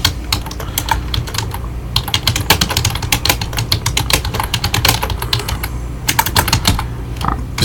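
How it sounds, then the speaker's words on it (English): Rapid, uneven clatter of keys on a computer keyboard during a Facebook live show, close and steady for several seconds with brief pauses, a low hum underneath and no talking. "Some people hate me typing into it."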